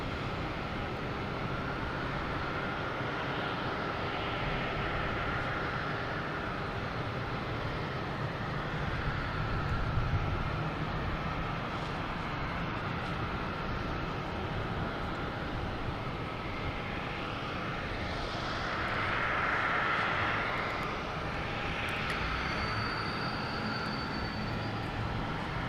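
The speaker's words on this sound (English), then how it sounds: "We have United Airlines lining up on 22 right, heading to LAX, a 757-200." A United Airlines Boeing 757-200 lining up on runway 22 right at Boston Logan, its engines giving a steady distant roar with a broad rumble that swells slightly midway, heard faintly and continuously from afar.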